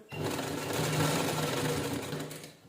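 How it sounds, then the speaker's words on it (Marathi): A sewing machine runs steadily and continuously, stitching a decorative gota border strip onto a blouse, its close, even motor hum lasting the whole time with no talking. "ह्याच्यानं शिलाई करून घ्यायची"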